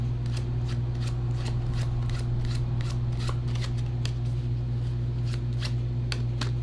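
A deck of tarot cards being shuffled by hand, a run of crisp riffling flicks repeating steadily and close up over a constant low electrical hum, with no talking.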